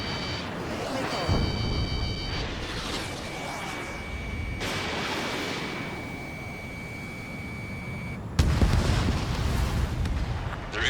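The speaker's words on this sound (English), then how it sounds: "Missile launched." Missile launches and explosions in the video game Ace Combat 7, with roaring jet and rocket noise, steady tonal warning beeps and a sharp blast near the end, loud and dense throughout.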